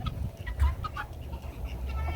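Chickens fleeing from under trees after a hawk flies off give a few soft clucks and rustles close by, with low scuffling and background noise throughout.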